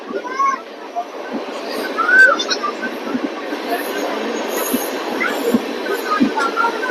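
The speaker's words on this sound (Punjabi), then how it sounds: "ਆਪਣੇ ਇਹ ਟ੍ਰੇਨ ਜਿਹੜੀ ਆ ਅੱਗੇ ਨਿਕਲ ਗਈ ਹੈ" DMU passenger train running on rails near Ambala Cantt, a continuous close rumble of wheels on track with occasional squeals and clanks, under a person talking.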